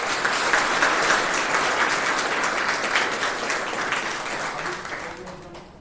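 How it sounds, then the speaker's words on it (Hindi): Loud, sustained audience clapping greets a successful exam student at a coaching-class felicitation, a dense wash of hands that gradually fades over several seconds, with a voice entering faintly at the end. "जोरदार तालियां बजें।"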